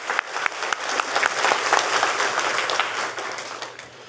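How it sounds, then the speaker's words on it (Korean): A church congregation claps during a Sunday service, loud dense applause that swells in the first second, holds steady with distinct individual claps, then slowly thins toward the end. "우리 주님께 영광의 박수 올려드리겠습니다"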